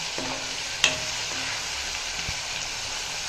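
Curry leaves sautéing in hot oil for a curry leaf thokku, giving a steady close hiss of sizzling with a single sharp clink of a utensil early on.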